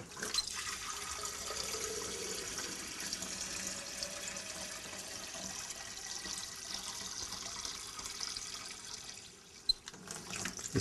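Water runs steadily into a beaker during a differential pressure flowmeter calibration, a continuous close splashing and trickling that holds even for about nine seconds before easing off near the end.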